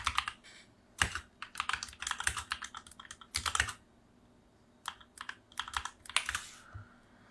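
Fingers type on a computer keyboard in irregular bursts of clicky keystrokes, with short pauses between runs and a few harder taps, close and fairly quiet with no talking.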